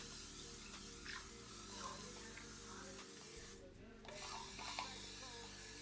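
A spray bottle mists water onto crochet human hair during finger detangling, giving soft repeated hissing spritzes close by, with gentle rubbing and handling of the hair between bursts.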